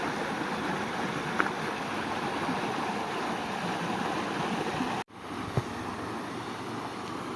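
Near a river, a shallow stream rushes steadily and evenly over rocks in a constant broadband wash, with a brief dropout about two-thirds of the way through.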